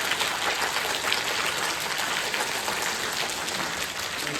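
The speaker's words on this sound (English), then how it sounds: "take your right hand and clap with your left hand as fast as you can" One person claps their hands together as fast as possible in a brain coordination exercise, a rapid, continuous patter of close, crisp claps with no pauses.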